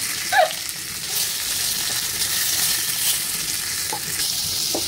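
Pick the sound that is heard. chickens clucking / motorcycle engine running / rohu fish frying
rohu fish frying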